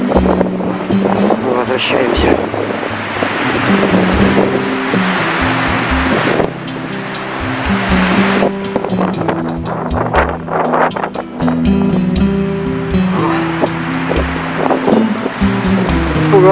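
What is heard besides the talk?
strong March wind in a forest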